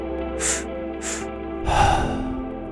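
Two quick, sharp inhales through the nose, then a longer, heavier exhale through the mouth, close up and clearly audible over a faint background hum.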